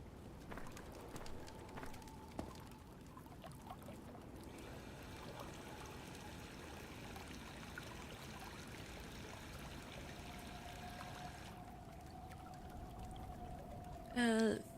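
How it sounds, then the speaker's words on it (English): Water running from a sink in a video game makes a steady pouring stream that continues throughout, with a faint hum and a few small tones in the background. "Water from the sink."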